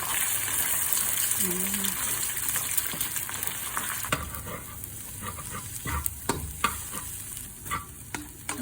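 Egg frying in hot oil in a pan and being stirred, a steady sizzle with scraping clicks of the utensil, close up, with a brief spoken word over it.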